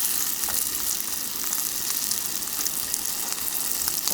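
Shredded cabbage with egg sizzles steadily in a hot pan, giving a constant close frying crackle with occasional soft stirring sounds.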